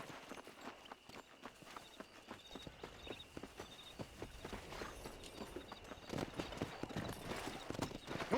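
A horse's hooves pound in a steady galloping clip-clop as it is ridden in the Western video game Red Dead Redemption, a continuous quick rhythm, fairly soft and close.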